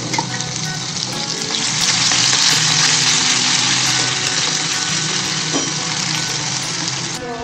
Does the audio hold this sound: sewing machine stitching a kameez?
no